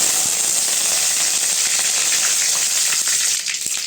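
Curry leaves crackle and sizzle in hot oil in a pan for a Tamil soya chunk gravy, a steady loud frying hiss with dense popping throughout, easing slightly near the end.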